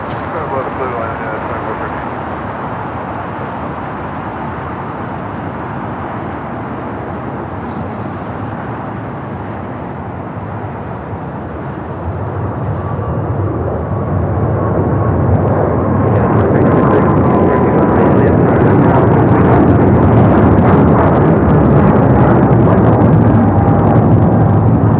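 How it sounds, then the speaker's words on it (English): An Air China Boeing 777-300ER rolls for takeoff on runway 25 right at LAX, its engine roar heard from a distance, building from a moderate rumble into a louder, sustained thunder as it powers down the runway. "Air China, the 777 to 300ER heading back to Beijing, rolling down at 25 right"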